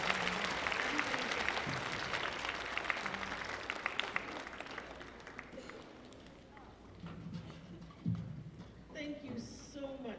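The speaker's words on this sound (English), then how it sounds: "Let's give our volunteers a round of applause." A school concert audience claps for the volunteers, strong at first and then thinning and fading, while cheers and a few voices come through over the clapping.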